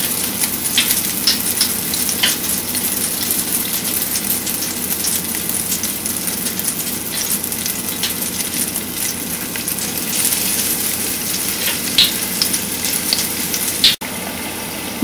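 Tempura-battered pieces frying in hot oil in a basket, giving a loud, dense, continuous sizzle with scattered crackles and pops over the whole stretch.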